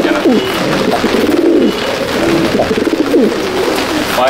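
Pigeons in a loft coo repeatedly in overlapping, throaty rising calls, loud and close, with the rhythm continuing throughout and no talk over them.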